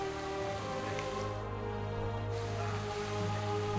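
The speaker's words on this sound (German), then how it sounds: "Dem Regen sei Dank." Steady rain patter and hiss from the video game Smite fills the whole clip, continuous and even, with low game-like background tones underneath and no voices.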